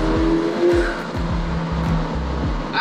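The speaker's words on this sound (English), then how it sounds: "The new exhaust amplifies the turbo whistle with hardly any lag on the pedal." A 2024 McLaren 750S sports car engine revs hard and close, its aftermarket exhaust roaring through a quick series of rising pulls with short breaks between them, with turbo whistle.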